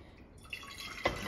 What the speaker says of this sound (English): I'm just going to add water to the bottom of the saucepan,